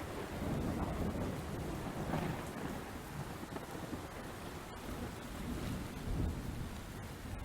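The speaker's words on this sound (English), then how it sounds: "Their sentence was cut short by the sound of thunder." Steady heavy rain with deep rumbling thunder rolling through, continuous and fairly loud, no voices.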